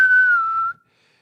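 A single steady whistled tone held for under a second, clear and close, then silence.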